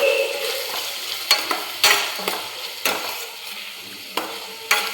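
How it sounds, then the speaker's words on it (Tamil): Tomatoes sautéed in a pan for pearl millet semiya crackle and sizzle softly as a spatula strikes and scrapes the pan in irregular sharp clicks, heard close with no talking. "இப்போ தக்காளி ஆட் பண்ணி நல்லா வதக்கிக்கலாம்."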